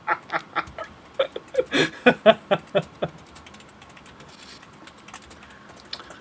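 Brisk typing on a computer keyboard, a run of sharp, close clicks and clacks in quick irregular rhythm that tapers off into quiet room tone with a stray tap at the end.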